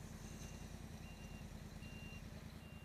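A truck climbing the winding Serra do Rio do Rastro mountain road rumbles steadily, its low engine drone continuous and fairly faint, with a reversing beep pattern riding over it throughout.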